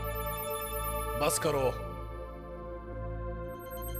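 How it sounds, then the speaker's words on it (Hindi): A telephone rings with a steady electronic tone that carries through the whole moment, while a voice breaks in loudly over it partway through, in a Hindi film scene. "फोन उठाओ।"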